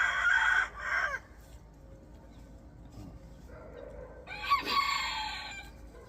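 Bantam chickens and a young stag rooster being handled in their pens, loud close squawks at the start and again near the end, with softer clucks and faint background sounds between.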